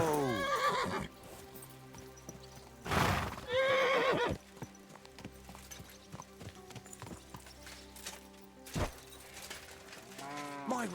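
A horse in Kingdom Come: Deliverance 2 lets out several loud, quavering neighs, with clip-clopping hooves and snorts between them, close by against quiet game ambience.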